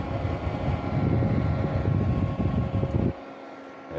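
A homemade USB air conditioner fan runs with a steady, close whirring hum that stops abruptly near the end, leaving near silence.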